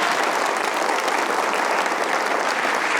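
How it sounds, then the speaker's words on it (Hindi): Studio audience applauding on a Hindi comedy talk show, a thick continuous roar of clapping that holds even and loud from start to finish. "इनके लिए तालियां होनी चाहिए एक बार"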